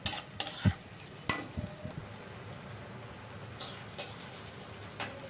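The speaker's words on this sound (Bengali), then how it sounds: "পেঁয়াজটা লাল লাল করে ভেজে নেবো।" Chopped onions frying in oil in a pan, with a soft sizzle in the background. Several sharp spatula scrapes and clicks come in quick bursts over it, and no one speaks.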